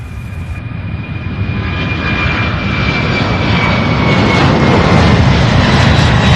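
Airplane taking off at Louisville International Airport (SDF), a steady loud roar of aircraft engines that builds in strength and stays close and powerful throughout, with no voices.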